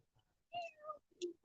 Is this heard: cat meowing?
yes